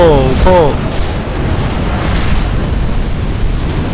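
A bomb blast in Dark Souls 2 produces a loud, sustained roaring rumble that fills several seconds, with a person's voice heard briefly at the start over the explosion.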